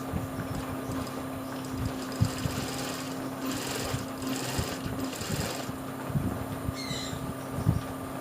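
A sewing machine stitches the hem of stretchy sportswear fabric, a steady close mechanical hum with a constant motor tone and light rhythmic needle ticks running throughout.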